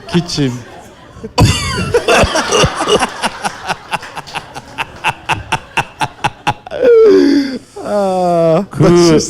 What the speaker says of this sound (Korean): 기침해봐, 기침.